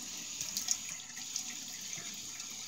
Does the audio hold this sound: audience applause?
no